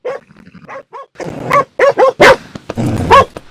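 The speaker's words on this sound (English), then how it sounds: "When I was petting this dog while it barked so violently in my face" A dog in the Red Dead Redemption 2 video game barks violently at close range, with a string of loud, sharp barks and growly yips in irregular bursts.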